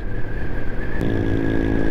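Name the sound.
motorcycle engine revving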